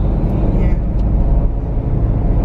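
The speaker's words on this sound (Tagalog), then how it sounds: "Kaya napaka-traffic niya talaga." Heavy, congested road traffic on a busy city street heading toward Novaliches, a steady dense rumble of car and bus engines close by, with occasional voices faintly under the noise.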